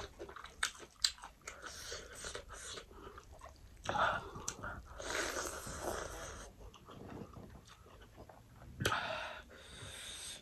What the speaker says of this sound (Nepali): प्याज खर्सानी लसुन टोक्दै